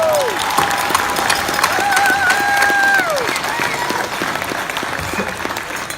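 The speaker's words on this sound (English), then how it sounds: "Give them a hand of applause." A banquet audience at a youth football awards event claps loudly and continuously, dense applause that fades slightly toward the end, with a few voices and whistles mixed in.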